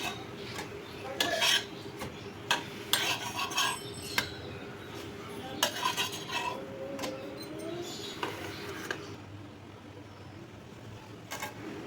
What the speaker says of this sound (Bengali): খুবই হালকাভাবে এপিড ওপিড করে সেঁকে নিচ্ছি